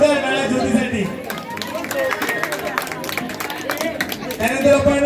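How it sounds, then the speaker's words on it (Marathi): Scattered clapping and cheering rise from a crowd at a community event for prize winner Jyoti, mixed with busy chatter and nearby voices, moderately loud and close. "जोरदार टाळ्या ज्योतीसाठी।"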